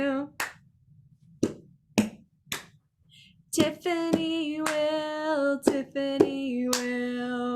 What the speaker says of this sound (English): lap, lap, clap. And we'll keep going, lap, lap, clap.